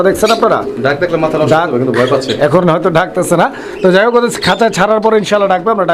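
A female pigeon of a breeding pair calling with low cooing notes, close and loud, mixed in with someone talking nearby.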